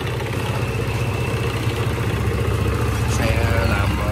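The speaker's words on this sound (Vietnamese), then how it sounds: "Bây giờ mình nổ máy" A Honda SH 150i scooter engine, freshly rebuilt with new piston, rings and reworked cylinder head, idles close by with a steady, even mechanical patter and faint clatter.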